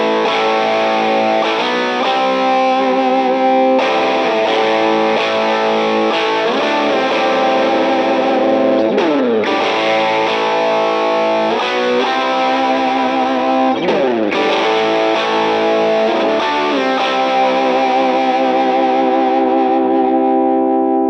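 Heavily distorted electric guitar plays sustained chords through a 4x12 speaker cabinet, loud and thick with effects, continuous for the whole stretch with brief gaps between phrases.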